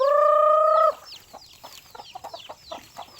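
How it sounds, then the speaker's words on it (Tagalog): Chickens, with ducks nearby, cluck in scattered short bursts at feeding time on a farm, following a loud rooster-like crow at the start, fairly close and without talk. "Namahog na ta og manok og pato."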